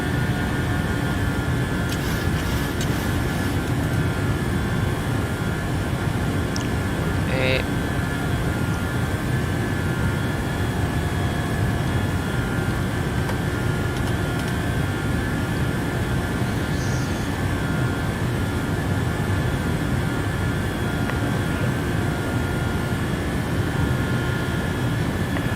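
Simulated airliner engines in Microsoft Flight Simulator 2020 holding a loud, steady jet roar with a broad rumble throughout, a few faint clicks and beeps on top and no voices.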